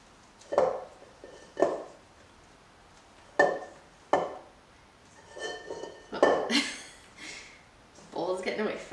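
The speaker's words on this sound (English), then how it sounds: "just take a spatula and just fold it right into the cream cheese" Spatula folding Cool Whip into a cream cheese mixture in a bowl, giving a series of soft scraping knocks and light clinks against the bowl at a close, steady pace with irregular pauses.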